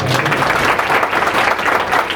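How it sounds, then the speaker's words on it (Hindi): A church congregation at a sermon claps together loudly, a thick continuous burst of close, many-handed applause with no break across its short length. "जोर से एक बार ताली बजाए।"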